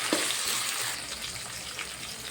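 Green peas sizzle in a hot pan as they are stirred, a steady close hiss of frying with a light scrape near the start.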